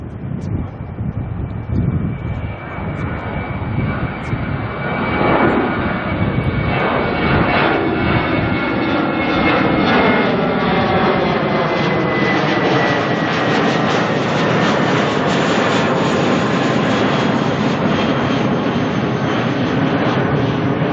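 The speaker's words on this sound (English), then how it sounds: "There is a Jetstar heading on off to Rarotonga." A Jetstar airliner departs Auckland bound for Rarotonga with a loud, sustained jet roar and a rising turbine whine that fills the whole stretch, with some wind buffeting the microphone.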